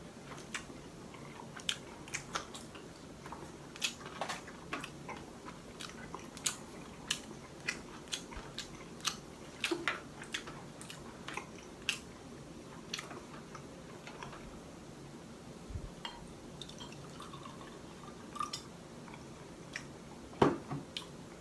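Fried chicken being eaten, crisp biting and chewing clicks repeating steadily up close with no talk.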